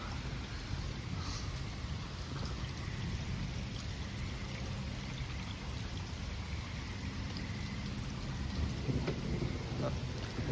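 Steady rain from a thunderstorm on wet roads, a continuous broadband wash with low rumbling underneath, constant in level throughout.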